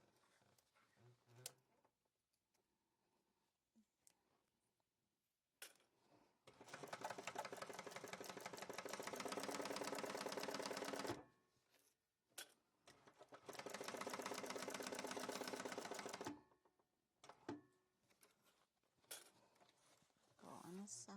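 Sewing machine backstitching on zipper tape for a handbag, running in two long loud bursts of rapid stitching separated by pauses, with quieter handling clicks and rustling before and after.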